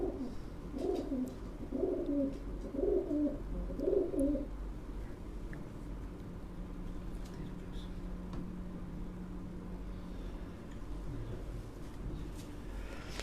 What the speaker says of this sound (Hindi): ये टुनिया नस्ल के ये कबूतर हैं